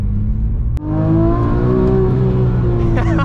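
A Porsche flat-six engine drones steadily and loudly as the car drives, its tone climbing slightly as it pulls along a street, with wind and road noise underneath.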